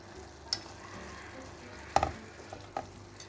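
A spoon stirs spinach börek filling, seasoned with salt and black pepper, in a pan. A faint sizzle runs underneath and a few sharp scrapes and clinks land about a second apart, with no voices.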